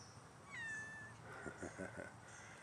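A cat meows once, a clear rising-falling cry heard close by, followed by quieter voices talking softly.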